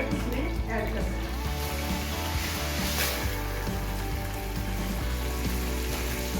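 Half a packet of Mehran vermicelli fries in desi ghee, making a dense, continuous close sizzle that holds steady and loud the whole time while someone speaks over it.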